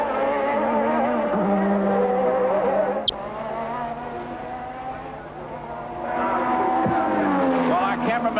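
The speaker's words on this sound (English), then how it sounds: "all the Italians in the Autodromo de Monza are watching this car as he closes on second place Alain Prost" 1988 Formula One cars at the Italian Grand Prix at Monza, including Gerhard Berger's Ferrari, produce a sustained high engine wail. It dips and swells as the cars pass, with a sharp click partway through and the roar rising again near the end.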